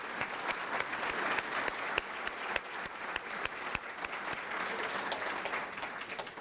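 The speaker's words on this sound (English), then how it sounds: "Let's give them a round of applause." An audience at a county conference applauds state representatives, a continuous even spread of many hands clapping at moderate distance with a few sharper individual claps standing out.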